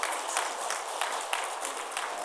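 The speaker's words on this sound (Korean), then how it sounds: "격려의 박수 한번 드리겠습니다" Light, brief congregational applause during a Korean church service, soft hand claps blending into a thin, even patter at moderate distance.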